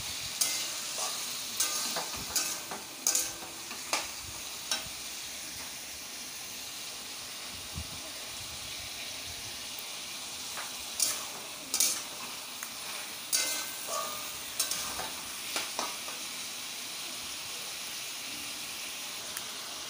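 Chopped tomato frying with chilli powder and turmeric in a pan, a constant soft sizzle broken by repeated scraping stirs of a spatula, close and continuous with no talk.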